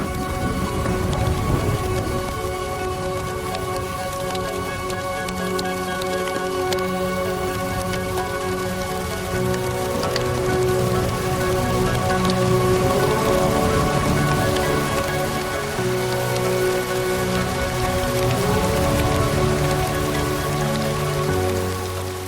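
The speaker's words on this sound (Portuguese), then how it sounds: "Isto é mais que chuva," Heavy rain pours steadily on the Serengeti plains with thunder rumbling, loud and continuous throughout, mixed with a soft musical drone and no voices.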